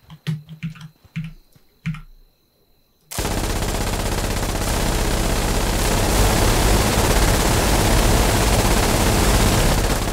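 Game gunfire erupts after a few seconds of sparse clicking, becoming a sustained, loud, unbroken roar of rapid shots that fills the rest of the stretch without pause.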